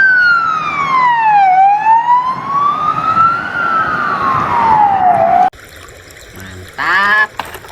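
A toy police car siren wails loudly in slow, smooth rising and falling sweeps for about five seconds, then cuts off abruptly. A brief, different electronic chirping sound follows, and a voice may briefly be heard.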